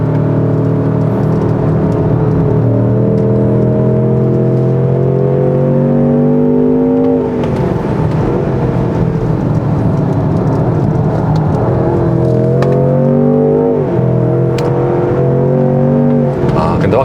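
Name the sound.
Range Rover Sport SV Edition One accelerating on circuit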